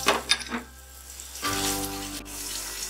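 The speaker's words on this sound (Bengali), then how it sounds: "এবার আলু দিয়ে দিচ্ছি, আলুটাকে লাল লাল করে ভাজা করে নেব।" Potatoes dropped into hot oil with cumin, a steady close sizzle of frying that rises sharply after a few soft knocks at the start.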